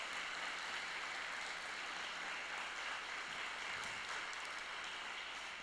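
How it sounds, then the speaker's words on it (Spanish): Steady crowd applause at a church service, a broad wash of clapping that holds at an even level throughout without letting up. "Denle ese aplauso al Señor."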